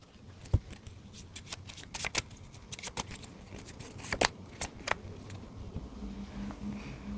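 A tarot card is drawn from a deck and placed down, making soft papery flicks, slides and crisp taps scattered over several seconds at close range and low volume.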